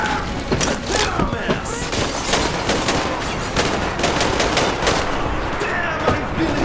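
Gunfire in the video game Metro Exodus, a dense run of rapid shots and bursts from several guns, continuous and loud, with some indistinct voices mixed in.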